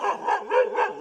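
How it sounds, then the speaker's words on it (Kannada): A dog, out at night in a residential area, gives a short run of three or four quick, fairly faint barks and yips, with no talk over them. "ಇದು ನಮ್ಮ ನಾಯಿ"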